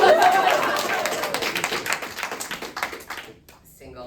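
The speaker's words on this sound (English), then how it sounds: "We can clap. Come on." Comedy club audience clapping during a stand-up set, a dense burst of handclaps that thins out into scattered claps over a few seconds, with chatter mixed in.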